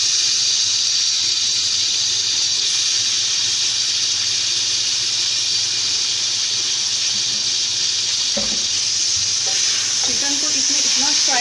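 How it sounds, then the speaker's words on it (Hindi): Chicken pieces sizzle in hot oil with carrots over medium heat for chow mein, a loud, close, continuous frying hiss with occasional scraping and clinks of stirring near the end. "चिकन को इसमें इतना फ्राई करना है"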